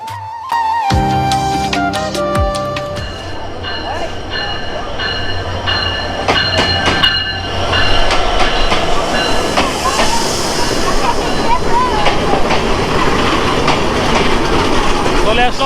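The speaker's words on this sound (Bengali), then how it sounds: "মধুমতি এক্সপ্রেস আমরা আছি এখন কুষ্টিয়া রেলওয়ে স্টেশন" The Madhumati Express at Kushtia railway station begins with tonal horn-like blasts, then its wheels clatter and squeal as the train runs loudly and continuously, growing stronger toward the end.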